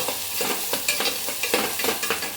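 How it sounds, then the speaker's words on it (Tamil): Pickle ingredients for a citron pickle are stirred and sautéed in a pan, quick rhythmic spoon scrapes over a bright hissing sizzle, close and steady with no voices. "இது கொஞ்சம் நல்லா வதங்குற வரைக்கும் நல்லா கிண்டி விட்டுக்கலாம்"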